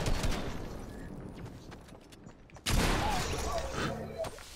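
Gunfire in a Fortnite battle royale match: a dense burst of shots in the first half, then a sudden loud onset of firing near the middle that keeps going to the end, with game noise and voices mixed in.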